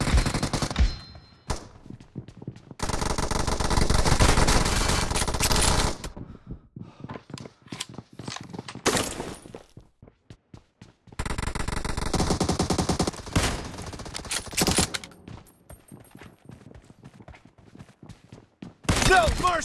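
Gunfire from a shooting video game bursts in long stretches of rapid automatic fire alternating with scattered single shots and pauses, loud and close throughout.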